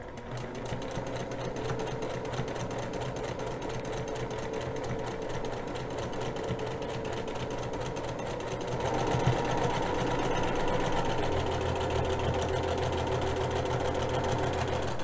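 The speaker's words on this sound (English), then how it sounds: "So we're going to sew down one side with the 1/4 inch seam." Sewing machine stitching a quarter inch seam on quilt block pieces, a steady rapid mechanical whir running continuously, growing slightly louder and deeper partway through.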